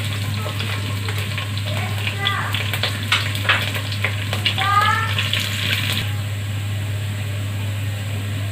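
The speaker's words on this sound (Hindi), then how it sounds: "लहसुन हो रहा है फ्राई।" Chopped garlic frying with cumin seeds in hot oil while a goat's liver dish is being made, a steady close sizzle with bursts of crackling and stirring, over a constant low hum.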